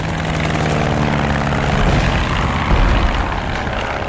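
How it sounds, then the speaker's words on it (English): A First World War era propeller plane, black with swept-back wings, roars overhead in a radio drama: a loud, continuous, throbbing engine drone that swells and holds throughout, with no speech. "Black plane, wings swept back."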